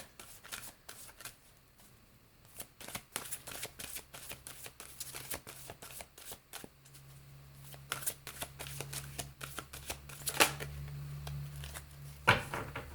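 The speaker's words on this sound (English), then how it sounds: "Let's go ahead and end your reading with a crystal oracle card." A deck of crystal oracle cards is shuffled close by in quick papery riffles and flutters that run throughout, growing slightly louder toward the end, with no talk.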